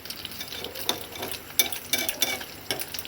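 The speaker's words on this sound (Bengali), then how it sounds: "এদিকে আমরা ডিমটা ভাজছি" An egg fries in a pan for a soyabori and egg curry, a soft, uneven sizzle broken by light scraping and stirring clicks, close and fairly quiet.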